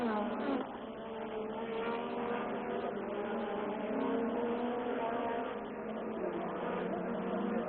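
Formula 1 cars at the Canadian Grand Prix: a continuous, buzzing engine drone with rising and falling pitch, heard in narrow-band broadcast sound beneath a commentator speaking in French.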